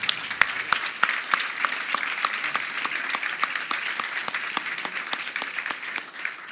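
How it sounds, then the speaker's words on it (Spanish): Conference audience applause, a steady wash of many hands clapping with sharper individual claps standing out, fairly distant and continuous for several seconds. "¿No la quieren aplaudir a Flor por lo que dijo?"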